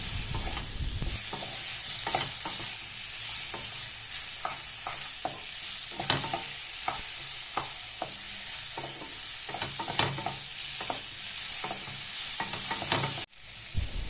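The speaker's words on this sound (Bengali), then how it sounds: "বেগুনের টুকরো দিয়ে ভালো করে ভেজে নেব লবণ আর হলুদ দিয়ে" Eggplant pieces with potato frying in oil with salt and turmeric, a steady close sizzle with frequent scraping stirs of a spatula in the pan throughout, ending with a brief clatter.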